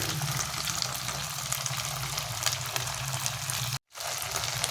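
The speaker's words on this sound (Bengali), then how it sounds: "আমার এটা ভাজা প্রায় হয়ে গেছে।" Soya chunks frying in a pan for soya chilli, a steady close sizzle with crackle throughout, cut by a brief silence near the end before resuming.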